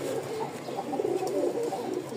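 A pair of dark chocolate-brown pigeons, a cock and a hen, give soft low rolling coos up close, a brief burst of repeated calls.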